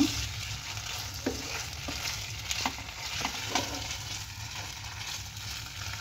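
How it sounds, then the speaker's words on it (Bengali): Spices sauté in oil in a pan for a cauliflower roast, a soft continuous sizzle broken by several scraping stirs of a spatula; no voices. "দিয়ে এগুলো সবগুলো একসঙ্গে ভালোভাবে আমি কষিয়ে নেব তেল ছাড়া পর্যন্ত।"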